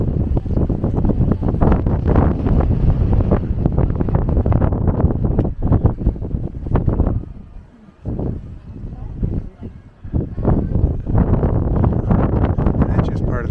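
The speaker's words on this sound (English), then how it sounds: "Wow, and the wind is horrendous." Strong wind blows across the gardens of Blarney Castle in Ireland, a loud, continuous roaring buffet on the microphone that dips briefly midway before surging back.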